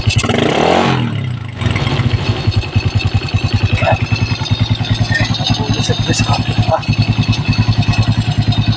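A Suzuki Smash 115 motorcycle idles with a steady, even putter and no backfire after a carburetor and sprocket cleaning, preceded by a brief rev, close by with faint talk in the background.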